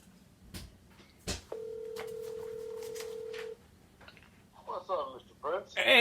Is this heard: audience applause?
no